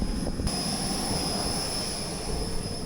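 A small propeller plane's engine drones steadily close by in Bergen, Norway, a constant buzzing hum with a high whine layered on top.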